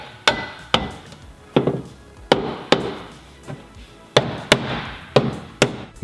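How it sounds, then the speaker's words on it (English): A soft hammer taps a subframe connector into the floor channel of a 1979-93 Foxbody Mustang, about a dozen sharp, irregularly spaced metallic knocks with short ringing decays, close and alone. "Use a soft hammer to tap it gently forward and down into the channel."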